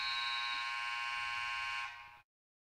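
A basketball end-of-quarter buzzer sounds at a women's college game between Ouachita and Southern Arkansas: one loud, steady electronic drone that holds for about two seconds and then cuts off sharply into silence.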